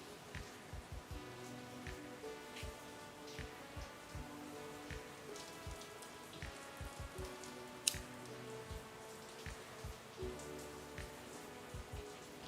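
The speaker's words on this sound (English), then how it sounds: "I hope you guys can hear the rain." Steady rain falls outside open windows during a pottery session, a dense, even patter of drops with a few sharper drips, moderately quiet and continuous with no voices.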